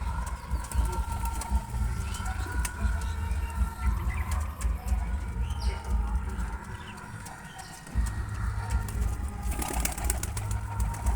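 Pigeons, including a ringed Teddy cross female, coo softly amid ongoing rustling and scattered clicks of wing flaps and movement in a loft, with faint background noise throughout.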